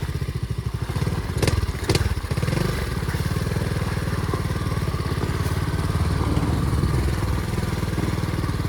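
A small pit bike engine drones steadily through the ride, its fast regular firing pulses close and continuous, with a few brief thumps and clatters along the way.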